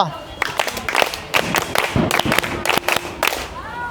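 A group of sixth-grade children claps in rhythmic bursts with a short pattern of sharp claps in a classroom, fairly close, with voices mixed in.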